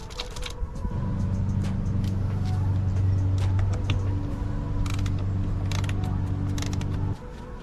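A power tool whirs steadily for about six seconds with a mechanical gear-like drone while fastening a Riva Racing sponson to a 2023 Sea-Doo GTX 300 Limited personal watercraft. The sound is close and fairly loud, with a few faint clicks and no talking.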